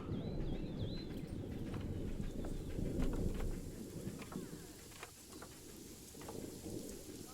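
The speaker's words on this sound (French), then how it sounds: "Ah, il pleut." Steady rain from the Planet Zoo video game, a continuous wash of falling water with scattered bird chirps and pigeon-like coos over it at moderate level, with no talking.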